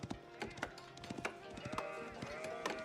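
Sheep bleating in Age of Empires, with several short, nasal calls scattered over soft in-game clatter and faint background sounds.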